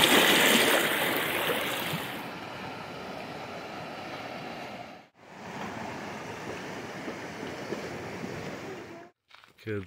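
River water flowing in a steady broadband rush outdoors on a summer day, close and continuous, briefly dropping out twice, with faint voices underneath.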